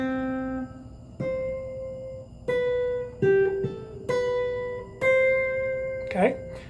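A guitar plays a single-note melody, with clear plucked notes ringing and sustaining one after another at a slow, close pace, ending with a brief sliding scrape.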